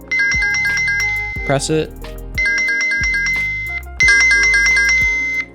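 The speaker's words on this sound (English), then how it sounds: "This is gonna be how we control the volume of the chime." A Uniview wireless doorbell chime rings a bright electronic melody three times with brief pauses between, loud and close, while a voice speaks briefly over the gap between rings.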